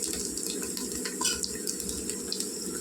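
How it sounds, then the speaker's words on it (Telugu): Water is poured steadily into a pot of rice for mutton biryani, making a continuous splashing, gurgling stream at close range with no talk. "ఇప్పుడు నీళ్ళు వేసుకుందామండి"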